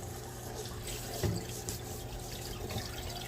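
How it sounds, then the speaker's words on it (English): Fresh-picked elderberries are rinsed under a running kitchen tap, giving a steady close hiss of flowing water with a few splashy spikes as the berries are moved around. "And then give them a good rinse."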